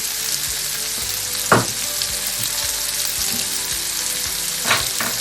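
Slit green chilies sizzling in hot oil for a Kerala-style Alleppey fish curry, a loud, close, continuous frying hiss with two brief louder spatters as ingredients shift.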